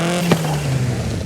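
A tuned turbo rally car engine in the racing game Forza Horizon 5 drones steadily at low pitch, with a brief crackle partway through, loud and continuous throughout the short stretch.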